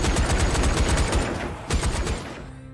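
Rapid gunfire in the zombie-shooting VR game Zombie Army VR, a fast burst of close, loud shots in quick succession that pauses briefly and then resumes before stopping.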